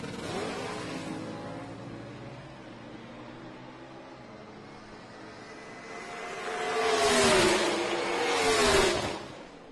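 Ford and Chevrolet factory stock drag cars at the 2018 Indy Factory Stock Showdown, engines droning at a distance and then swelling into a loud roaring pass as they race by.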